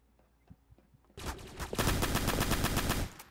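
Roblox gunfire, a loud sustained burst of rapid automatic shots starting abruptly after a few quieter clicks and lasting about two seconds at close range.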